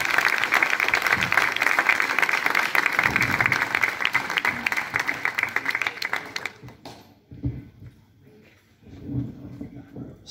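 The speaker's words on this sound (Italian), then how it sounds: "Grazie davvero di cuore a tutti e un applauso a Baccherese." Audience applause at an outdoor inauguration of a poetry corner and statue in Bacchereto, Italy: dense, sustained clapping for about six seconds, then fading into scattered claps and quiet murmuring.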